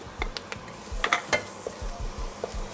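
Food sizzles in a pan for a curry chicken as ginger goes in, with a soft continuous fry under repeated light scrapes and clinks of a utensil stirring against the pan.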